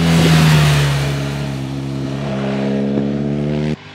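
Big-bore BMW GS adventure motorcycle passes close by, its engine droning loudly with a steady pitch, then the sound drops away sharply at the end.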